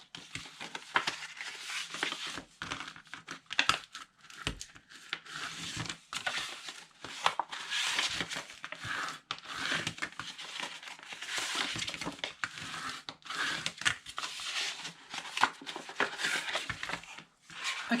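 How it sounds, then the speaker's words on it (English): Paper is folded and burnished along score lines, giving close, quiet, continuous crinkling and rubbing scrapes in irregular bursts, with no voices over it. "we are going to fold and burnish our score lines"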